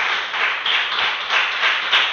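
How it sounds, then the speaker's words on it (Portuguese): A church congregation claps for Jesus in dense, continuous applause, many hands together at close range, loud and steady for a couple of seconds without talk. "Que Deus abençoe as palmas para Jesus."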